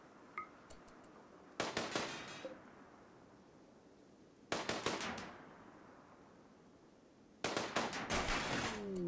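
Three sharp bursts of rapid gunfire in the video game RimWorld, fired at the battery powering a turret, each rattling volley lasting about a second and separated by quiet gaps with faint small clicks and pops.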